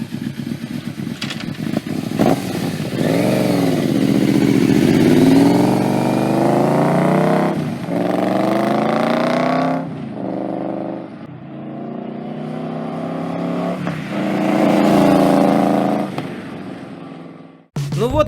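A 1294 cc cruiser motorcycle engine revs up and down in long rising and falling sweeps, loud and close, with a brief pause near the end.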